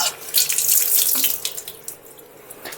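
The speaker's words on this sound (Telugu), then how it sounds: "పన్నీర్ ఎప్పుడైనా ప్యాక్ ఓపెన్ చేసిన తర్వాత ఒకసారి మనం మంచి వాటర్తో కడగాలండి" Paneer being rinsed under a running kitchen tap, a close, steady hiss of flowing water with splashes as the stream hits the block, easing slightly toward the end; no talking.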